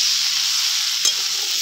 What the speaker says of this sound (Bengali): এবার 1 মিনিট মতন একটু কষিয়ে নেব,